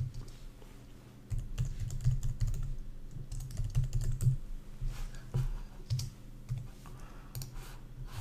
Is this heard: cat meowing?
no